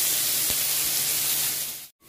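Curry sautés in a pan with a steady, close frying hiss that holds evenly, then cuts out abruptly near the end.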